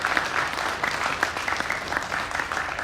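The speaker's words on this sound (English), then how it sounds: "Let's give Lucy a big round of applause." An audience applauds at a corporate security presentation, a steady wash of many hands clapping at moderate distance with no talk over it.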